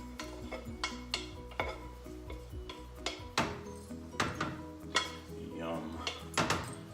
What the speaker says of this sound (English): I'm gonna add my rice, which is already cooked. And this is my jasmine rice. Just gonna add that to the pan.